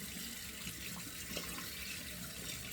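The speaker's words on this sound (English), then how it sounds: "So let's turn on some cold water here." Cold water runs steadily from a sink tap in a London barbershop, a continuous soft hiss and splash at close range with no talking.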